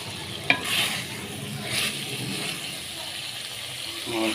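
Aloo keema, potatoes and minced meat, stirred and fried village-style in a pan: soft continuous sizzling with scraping spoon strokes, a sharp clink near the start, close and fairly quiet.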